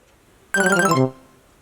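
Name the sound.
phone call ringtone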